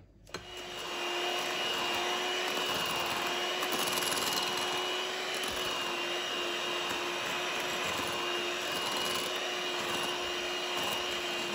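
An electric mixer whirs steadily as it beats cream with sugar, a loud continuous motor drone with a slight rise in pitch, running alone after a brief quiet start.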